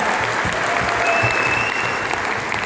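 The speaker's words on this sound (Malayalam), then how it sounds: "തീർച്ചയായിട്ടും നല്ലൊരു കയ്യടി അവർക്ക് കൊടുക്കും." A large audience in a grand hotel auditorium in Cochin at a town hall event gives a loud, sustained round of applause, dense and even, with no voices above it.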